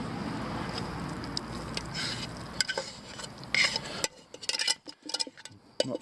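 Noodles being stirred in a hot Swedish army mess kit pot over a fire, a steady close scraping and rustling with faint sizzling, busier early on and thinning into scattered clinks and scrapes toward the end.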